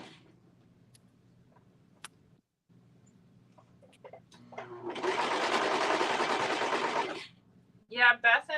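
A serger sewing machine stitches fabric for the waistband of a pair of pants, running in one steady, close burst of about two seconds, with quieter handling noises before it and a short clatter at the end.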